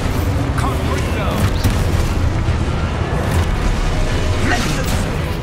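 A fiery Confringo spell blast in the video game Hogwarts Legacy, a loud boom sitting within a dense, constant wash of game effects and music.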